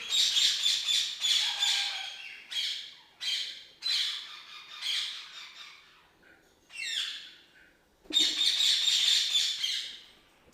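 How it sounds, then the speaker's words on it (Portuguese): Ringneck, plum-headed and moustached parakeets squawk loudly at an exotic bird breeder in Brazil, with harsh, shrill calls in repeated bursts broken by short pauses. "Família do ringneck, cabeça de ameixa, periquito mustache."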